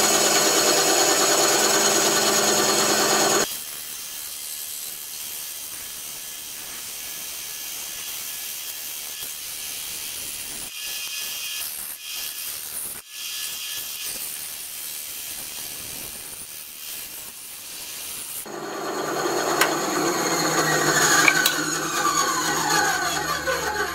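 A bandsaw cuts a half-tang handle shape for a custom lockpick, giving a steady whirring hiss with a harsher, louder cutting texture near the end and no speech.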